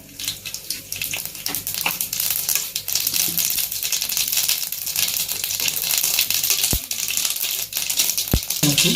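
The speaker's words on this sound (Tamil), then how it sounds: "கொஞ்சம் கடுகு போட்டுக்கலாங்க" Mustard seeds spluttering in hot oil while a dried anchovy curry is being cooked, a dense, continuous crackle and hiss with sharp pops, close and loud, with two sharper clicks standing out near the end.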